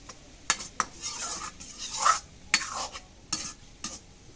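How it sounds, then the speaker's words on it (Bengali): Greens being stirred in a cooking pot with a metal utensil, giving repeated scraping and clinking strokes in irregular bursts over a soft background sizzle, close and moderately loud. "এখন শাকটা নাড়া দিই"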